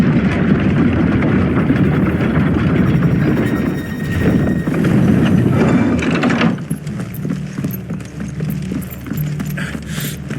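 Horses clip-clopping in the video game Final Fantasy XVI, a dense clattering of hooves and rattling tack, loud and busy at first, then thinning and quieter after about six seconds.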